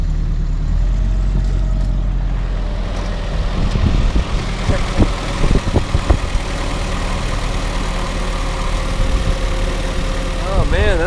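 A 1946 Willys CJ2A Jeep engine idles with a steady low rumble after starting, as voices talk over it close by.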